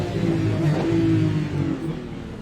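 Race car engine in a motion-rig racing simulator game, a steady loud droning rev with layered harmonics that holds near-constant for a couple of seconds and eases slightly toward the end.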